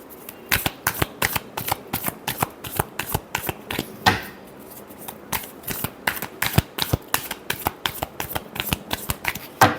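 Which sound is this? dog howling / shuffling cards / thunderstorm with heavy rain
shuffling cards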